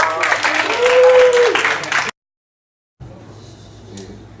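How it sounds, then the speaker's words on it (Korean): An audience at a church youth group meeting claps for about two seconds in a loud burst, then the sound drops to near silence before faint room noise returns. "오, 박수."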